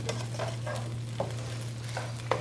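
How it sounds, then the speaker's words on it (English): Food frying in a pan, part of a mackerel in sweet chilli sauce dish, is stirred with a utensil: a continuous close sizzle broken by repeated scraping strokes every half second or so, with a low steady hum underneath. "Have this all fried up a little here. Let me help you with that. There you go. You do the stirring."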